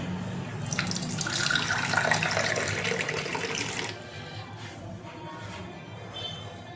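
Tap water runs into a metal cooking pot for tea in a home kitchen, a bright splashing stream for a few seconds that then stops, leaving faint drips and quiet room noise.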